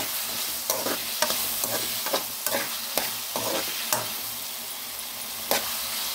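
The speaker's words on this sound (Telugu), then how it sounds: "చూడండి ఇలాగ మధ్య మధ్యలో కలుపుతూ ఉండాలన్నమాట." Chopped tomatoes and tamarind fry in a pan for chutney, a constant sizzle broken by irregular scraping knocks of a spoon stirring every half second or so, close and clear with no talk.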